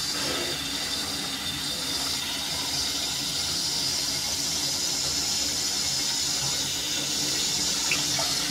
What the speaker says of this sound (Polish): zawór nie został zamknięty, woda się przelewa.